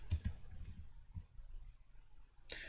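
A computer mouse gives a few faint, sharp clicks, a quick pair at the start, another a second later and one more near the end, with quiet desk sounds between.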